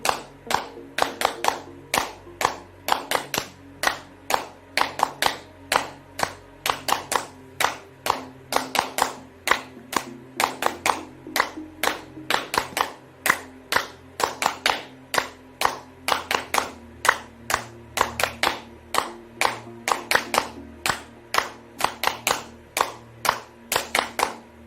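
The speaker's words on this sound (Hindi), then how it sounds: "तो 1 2 चा चा चा, इस फॉर्म में हम तालियां बजाएंगे कम से कम 1 मिनट तक।" A group claps hands together in a steady, even rhythm during a guided positivity exercise, loud sharp claps repeating continuously for about twenty-five seconds with no talk over them.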